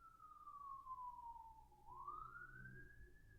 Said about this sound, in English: There goes the ambulance, or the fire truck.